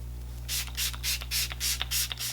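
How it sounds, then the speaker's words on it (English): Smashbox setting spray mists out in a quick series of about eight short, hissing spritzes from a pump bottle, close by, over a steady low hum. "I have the Smashbox setting spray, which actually does turn your makeup water resistant"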